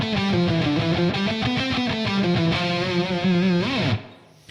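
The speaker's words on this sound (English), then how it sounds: "Now we get into a phrase that involves sweep picking and a scale run." Heavily distorted electric guitar rips through rapid sweep-picked arpeggios and a fast scale run, dense and continuous for about four seconds before cutting off.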